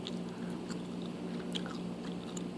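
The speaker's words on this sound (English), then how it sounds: "chewing gum" Gum chewing ASMR, with close, continuous moist smacking and soft crunchy bites in a steady rhythm, heard alone.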